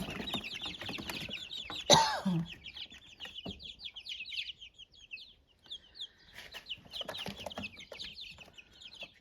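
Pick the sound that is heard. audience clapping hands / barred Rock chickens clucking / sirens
barred Rock chickens clucking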